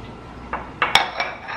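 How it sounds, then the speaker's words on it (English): A utensil stirs a thick honey glaze seasoned with salt and pepper in a pan, making a few sharp metallic clinks and scrapes close by, with no talking. "And give that a stir."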